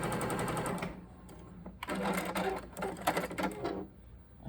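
A sewing machine runs through fabric while piecing a St. Louis Star quilt block, with a steady stitching burst, a brief pause, then another rapid mechanical run close by.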